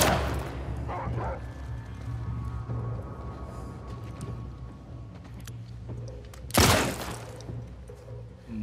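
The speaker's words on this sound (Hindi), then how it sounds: "आ जा रहे कुत्ते।" Dogs bark in The Last of Us Part II, a few sharp, excited barks early and one loud, close bark near the end over low ambient rumble.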